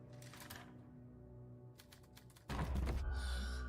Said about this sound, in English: I love like the typewriters. Just hearing the clicking sounds so satisfying to me.